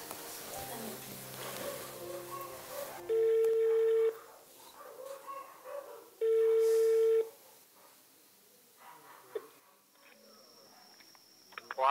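A telephone call being placed, with two long, steady ringing tones separated by a pause, heard close over quieter outdoor background sounds and faint voices.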